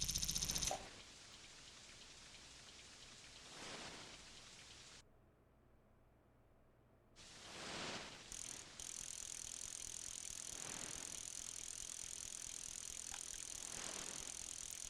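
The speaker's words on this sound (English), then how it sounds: "It's raining man." Steady hiss of rain from the SNES fishing game TNN Bass Tournament of Champions, a dense wash of drops that drops out briefly before returning, with no voices over it.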